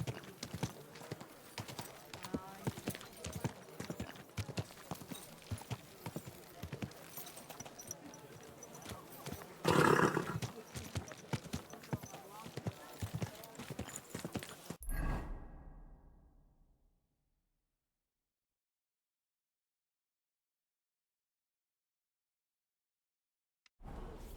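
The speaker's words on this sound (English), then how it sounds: "Easy, good horse." Horse hooves clip-clopping in Kingdom Come: Deliverance II, a video game, a steady rhythmic trot with a brief swish midway, then cutting out to silence before a faint return at the end.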